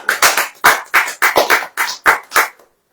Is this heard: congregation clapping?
yes